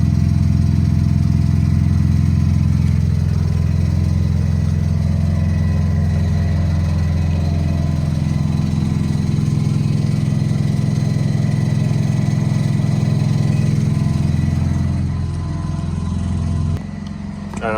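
A Datsun 510 car idles while warming up after a cold start, its engine giving a loud, steady, close rumble that dips slightly near the end.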